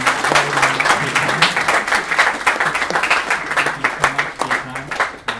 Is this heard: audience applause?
yes